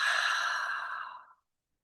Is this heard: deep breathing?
yes